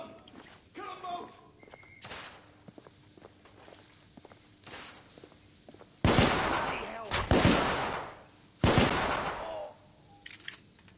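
Gunfire in The Order: 1886, scattered sharp shots then two long, heavy bursts of automatic fire, loud and close, with voices shouting and footsteps in between.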